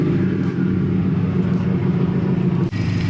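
A Subaru STI's engine idles steadily up close, a loud, continuous low rumble with a faint brief dip near the end and no talking.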